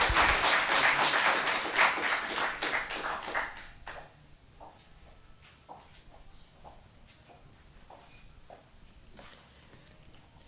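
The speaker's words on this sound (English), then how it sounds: "Big round of applause." Audience applause at a speaker event, loud full clapping that drops off after a few seconds and leaves scattered claps and light room noise.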